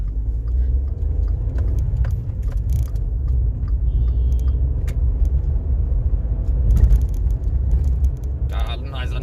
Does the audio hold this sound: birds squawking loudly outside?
no